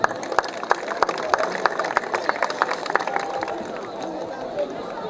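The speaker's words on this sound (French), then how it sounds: "il faut les remercier chaleureusement en leur applaudissant les mains" An outdoor crowd welcoming visiting doctors for a medical campaign in Fanaye claps in sharp, uneven hand claps, with chatter and voices mixed in throughout.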